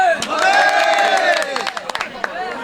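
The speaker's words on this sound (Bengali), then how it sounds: "মেসির জন্য তালি হবে" At a crowded cattle market for Eid sacrifice animals, people cheer and clap for a sold bull named Messi; loud shouting voices dominate, with scattered, uneven hand claps joining in toward the end.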